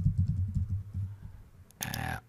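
Quick run of keystrokes on a computer keyboard, a dozen or so light taps close by, followed by a short brighter electronic chime near the end.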